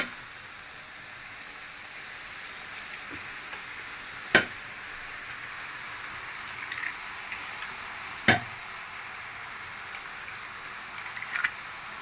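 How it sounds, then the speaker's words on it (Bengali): Eggs frying in a pan over already fried vegetables, giving a steady low sizzle with a few sharp clinks of a utensil against the pan, quiet and close with no talking. "সবজিগুলো ভাজা হয়ে গেছে এখন এর মধ্যে আমি ডিমগুলো ভাজবো"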